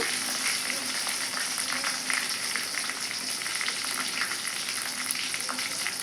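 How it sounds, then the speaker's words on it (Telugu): Cumin, mustard seeds and a dried chili crackle and sizzle in hot oil, a steady bright close-up hiss with faint popping throughout and no clear talking over it. "జీలకర్ర ఆవాలు, 1 ఎండుమిర్చి వేస్తున్నాను."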